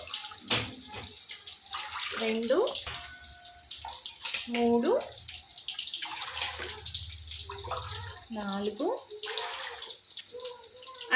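Water poured glass by glass into a pot of soaked basmati rice, several short splashing pours spaced a couple of seconds apart, close and clear, while a woman counts aloud.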